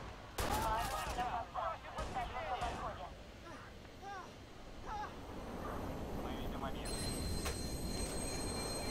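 A train hitting the player's character in the Watch Dogs video game, sharp loud impacts and bursts of gunfire-like crashes followed by a steady rumbling roar, with someone shouting over the game sounds.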